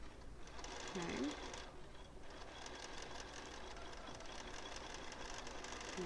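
A sewing machine stitches a seam on a Minky fabric pillow, running with a rapid even mechanical chatter and fast stitching rhythm, with brief faint vocal sounds.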